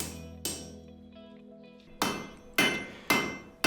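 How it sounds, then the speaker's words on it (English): Hammer blows forging heated spring steel into a knife, sharp metallic strikes ringing close and loud, about five hits spaced irregularly with ringing decay between them. "Now we're basically heating it up, then hammering it into shape."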